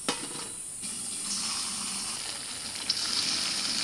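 Paneer and soybean pieces frying in hot oil in a pan give a steady, close sizzle with a faint crackle and brief splashy pops near the start and end.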